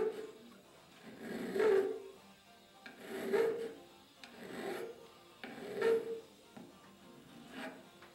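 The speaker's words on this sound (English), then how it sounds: "A little more file work to refine the shape and soften the corners and sharp edges." A hand file rasps across mahogany wood, refining the shape and softening corners and sharp edges in four slow, steady strokes spaced a couple of seconds apart. The strokes are close and moderately loud, with no talking.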